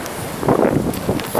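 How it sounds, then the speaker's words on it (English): Wind gusting into a microphone outdoors on a windy 12-degree morning walk, a rough rushing buffet that swells in the middle and again at the end, with no talking. "windy old day, 12 degrees"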